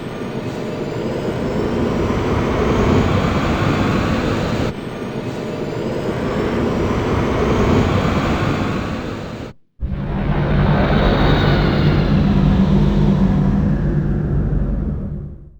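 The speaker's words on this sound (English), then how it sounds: "Cleared for takeoff, Colonel." Spacecraft taking off in the video game Wing Commander 3, a loud, continuous jet-like roar that holds steady, cuts out briefly, then surges back even fuller with a deep rumble.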